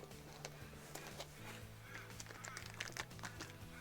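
Geese honking outdoors in a rapid, irregular series of calls, moderately faint over a steady low hum, with a quiet voice briefly in the background.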